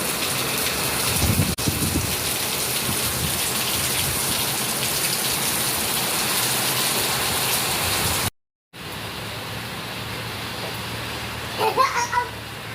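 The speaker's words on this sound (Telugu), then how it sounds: "సో మేము స్టార్ట్ చేయడం వర్షం రావడం ఒకటే అయిపోయింది." Heavy rain pours steadily, a dense, loud, continuous hiss broken by a brief cutout, with a voice faintly heard near the end.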